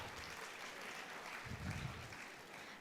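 Applause from a student audience at a chartered accountancy conference session, a steady wash of many hands clapping at moderate distance, swelling slightly toward the middle and continuing without talk.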